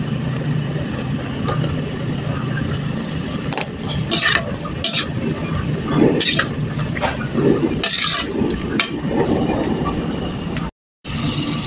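Snails sautéing in a pan with seasoning and crushed black pepper for a Filipino sinanglaw na kuhol: a steady close sizzle with scraping stir strokes and clattering bursts throughout, then a brief cutout near the end.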